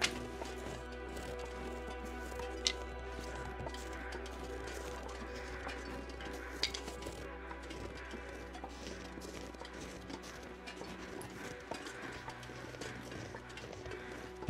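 Deer hoofsteps in The Long Dark, a run of soft rapid thuds and clops at moderate distance over a constant low wilderness hum, with no voices.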